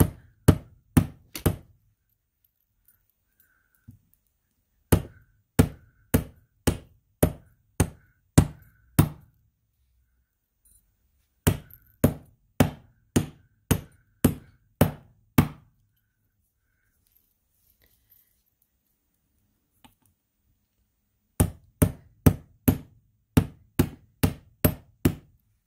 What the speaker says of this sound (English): Excuse me for talking while I'm hammering.